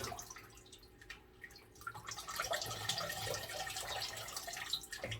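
Fresh water is poured over potted orchids growing in bark, splashing and dripping steadily at close range, with a continuous patter of droplets.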